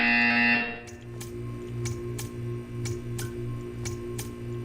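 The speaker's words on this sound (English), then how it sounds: "You will hear a buzzer." Portal 2 video game buzzer: a loud, steady electronic tone lasting under a second, then a regular clock-like ticking that repeats about every half second.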